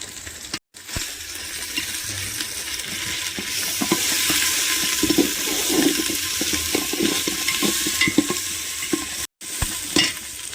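Ginger and garlic paste frying in a pot of khichuri, a steady close sizzle with stirring scrapes running throughout, broken by two brief silent gaps.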